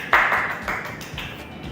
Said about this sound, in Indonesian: Tepuk tangan semua dulu.